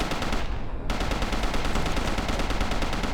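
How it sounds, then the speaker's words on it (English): Rapid, continuous gunfire fills a World War II online battle game, with dense bursts and automatic fire crackling throughout and no voices over it. "I hear shooting, though."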